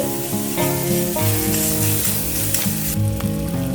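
Bengali spice paste with ginger paste frying in oil over medium flame, a steady loud sizzle with repeated scraping strokes of a spoon stirring the pan, while a background melody plays.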